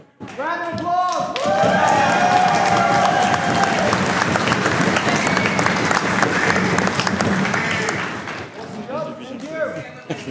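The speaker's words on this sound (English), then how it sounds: "Round of applause." A crowd at a buhurt national titles tournament applauds and cheers loudly for several seconds, with an announcer talking before and after the sustained clapping.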